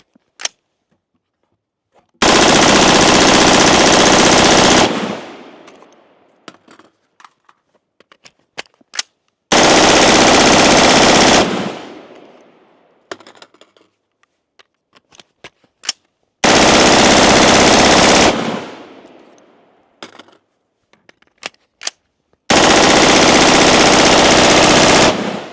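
An LWRC IC-A5 rifle fires four long sustained bursts of rapid automatic fire, each lasting a couple of seconds, loud and close, separated by quiet gaps with scattered clicks and a few single reports.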